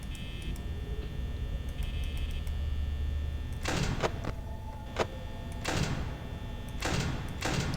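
Security door in the video game Five Nights at Freddy's, heard as a few short mechanical slams and clunks over a low electrical hum and faint beeping game tones, with no talk.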